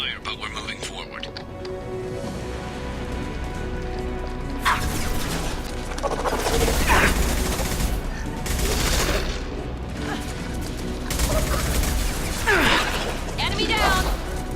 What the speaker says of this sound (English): We're taking heavy fire, but we're moving forward.